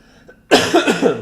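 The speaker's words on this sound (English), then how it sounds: "This freaking cough." A man gives a single harsh cough with a couple of quick follow-up bursts, loud and close after a brief quiet moment.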